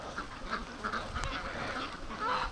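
Free-range ducks foraging outdoors quack repeatedly in quick, nasal bursts, several calls overlapping at moderate distance over a light background hiss.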